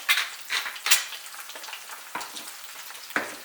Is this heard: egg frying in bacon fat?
yes